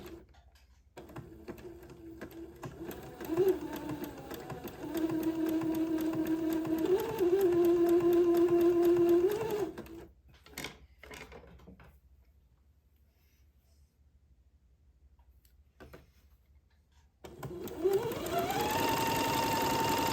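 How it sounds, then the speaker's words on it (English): A sewing machine zigzag-stitches white lace edging onto a mint dress in steady motor bursts, pausing briefly for handling of the fabric before starting up again; no one speaks. "let me butt this lace up and start zigzagging again."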